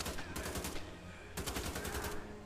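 Rapid automatic gunfire in Wolfenstein: The Old Blood, two loud bursts of fast shots separated by a short pause, close and dominant.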